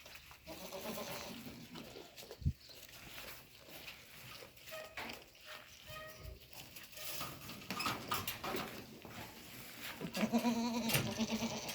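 Young goat kids of Saanen and Maltese breeds on a farm bleating softly and intermittently amid rustling and shuffling, with a brief knock and busier, slightly louder calls toward the end.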